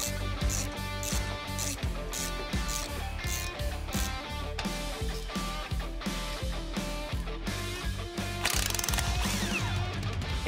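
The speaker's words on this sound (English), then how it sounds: "this is as simple as unbolting the old shocks and bolting in the new ones" A ratchet wrench unbolts old shocks from a Ford F-350 work truck, making quick, rhythmic clicking bursts close up, with background music playing underneath.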